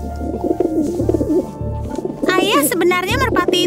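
A cartoon pigeon coos in a few soft, rolling phrases under ongoing background music and other cartoon sounds, with a voice-like warbling section toward the end.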